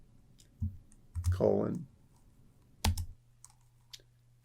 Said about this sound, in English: I'm going to type in a height size